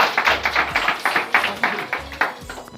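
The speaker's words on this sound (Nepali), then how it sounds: "ताली बजाउँ ल।" Guests at a Nepali wedding ceremony applauding: close, uneven hand claps in a quick, steady rhythm, with no talking.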